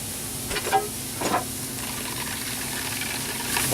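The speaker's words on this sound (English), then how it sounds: "we're gonna saute these mushrooms" Mushrooms sauté in a hot pan with a continuous close sizzle and hiss, and a few stirring scrapes rise above it.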